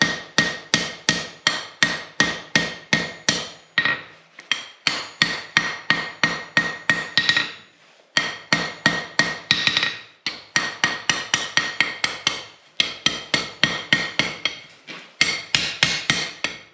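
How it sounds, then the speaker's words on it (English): A blacksmith hammers steel on an anvil while forging tire irons: quick bursts of sharp, ringing metallic blows in fast rhythmic runs, broken by brief pauses, loud and close. "rounded edge of my horn, rounded edge of my hammer, and I hit just back behind my edge"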